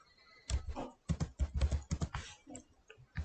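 Fingers tapping on a computer keyboard, a close, quiet run of quick irregular keystrokes clustered in bursts with brief pauses between them.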